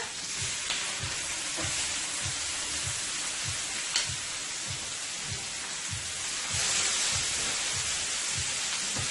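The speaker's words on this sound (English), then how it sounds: "now we are going to add our 2 steaks right into the pan here" Ribeye steaks and jumbo shrimp sizzling in a pan, a dense, loud, continuous hiss of frying with a soft regular low thumping underneath throughout.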